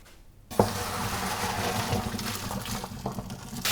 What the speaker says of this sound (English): I just run cold water over it and separate them